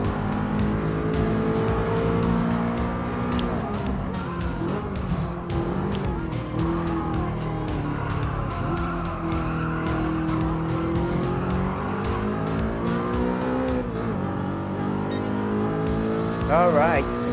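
An Audi R8 supercar races in Gran Turismo Sport, its engine roaring steadily and loud throughout, with brief tire squeals through corners and a hairpin, blended under game music and commentary.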